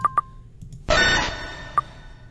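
A Pokémon cry for Sandshrew from the original 150 Pokémon: two short electronic beeps open it, then a sudden harsh, buzzy burst lasting about half a second that fades out, followed by one more beep.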